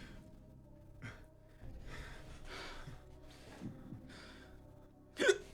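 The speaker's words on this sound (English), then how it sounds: "I have hiccups." Hiccups from a person, several short sharp breathy catches spaced a second or so apart, with a louder abrupt gasp near the end, close and fairly quiet.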